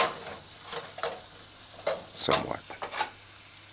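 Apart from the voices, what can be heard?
ginger and shredded garlic sauteing on low heat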